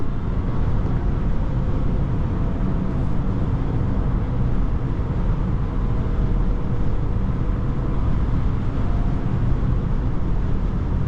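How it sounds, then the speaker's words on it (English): Inside a 2022 Rivian R1T Adventure electric pickup on the move, a steady broadband road and motor rumble fills the cabin, constant and fairly loud with no one speaking. "it's so quiet, but you do have some motor noise"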